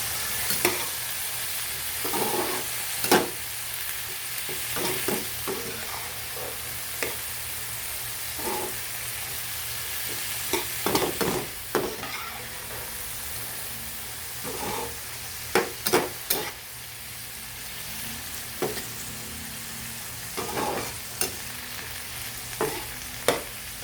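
Water spinach stir-fries with soy sauce in a hot pan, giving a steady broadband sizzle. Repeated scraping and clinking strokes of the spatula come through as the greens are tossed, and no one speaks.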